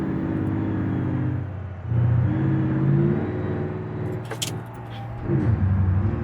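A heavy Mercedes-Benz Actros truck in the driving sim BeamNG hauls a 20-ton load up a winding village road. Its engine drones in a low, labouring tone that rises and falls as it strains uphill, and there are brief clanks near the end.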